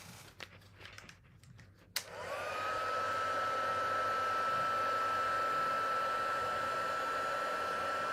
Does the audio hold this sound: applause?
no